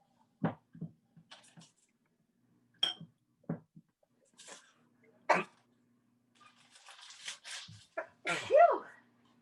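Several sharp, close sneezes burst out one after another, with short quiet gaps between them and a few softer breaths and murmurs near the end.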